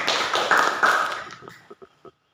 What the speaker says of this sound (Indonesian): Kita berikan aplaus untuk Revaldi.